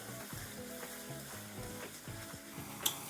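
Chilli, cumin and coriander powders being sautéed in oil for soya kofta curry, producing a steady close sizzle with rhythmic stirring scrapes and one sharp clink near the end.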